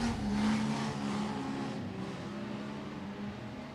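Modified production race cars at Gympie Speedway on a dirt oval roar past as a loud, blended engine drone that slowly fades as they move away.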